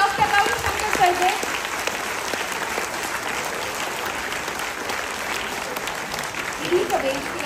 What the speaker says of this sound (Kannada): ಜೋರಾದ ಚಪ್ಪಾಳೆ ಬನ್ನಿ ಡಾಕ್ಟರ್ ಗೌರಿಶಂಕರ್ ಸರ್ಗೆ.